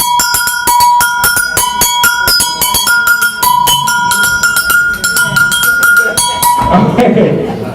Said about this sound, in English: Double bell, bigger bell from Africa.